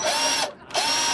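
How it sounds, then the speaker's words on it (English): A power drill boring into a boat hull, a loud, close, high-pitched whine that cuts out briefly and then starts again, with no voices. "Hopefully it doesn't sink the boat here, drilling holes in it."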